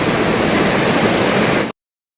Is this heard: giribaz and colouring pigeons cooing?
no